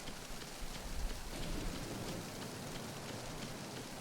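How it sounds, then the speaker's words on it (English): Steady rain falls in Metal Gear Solid 2 on an original PlayStation 2, a dense, even hiss of raindrops on surfaces with a low rumble underneath, constant and fairly quiet. "We're getting a little bit of slowdown from this rain"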